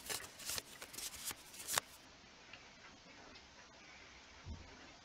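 A quick burst of playing cards being riffled and shuffled, crisp rapid flutters for about two seconds, followed by faint quiet ticking.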